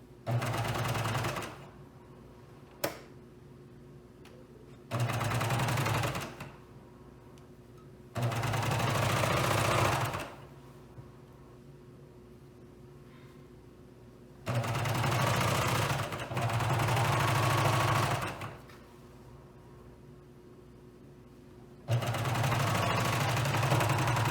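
A sewing machine hems fabric with a 1-inch hem, running in loud, close bursts of a few seconds each, separated by quiet pauses as the work is stopped and readjusted.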